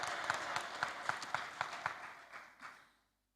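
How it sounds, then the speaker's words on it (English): Applause from a crowd at a Patriotic Front campaign rally in 2021: steady clapping with a few sharper claps standing out, fading away to silence over about three seconds. "I think we must give ourselves a big applause"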